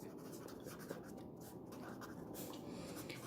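Pen or chalk writing during a class 10 maths lesson on constructions, faint continuous scratchy strokes under a quiet room hum, with no speech.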